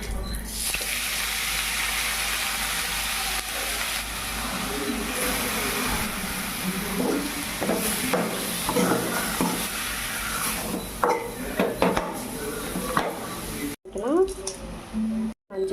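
Mutton fried in a pot with coriander, mint and curry leaves, a steady sizzle with stirring scrapes and clatter, heard under a person talking throughout.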